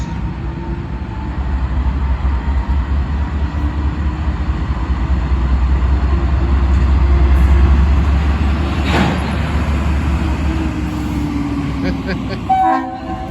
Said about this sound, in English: I'm gonna hook up to the caboose.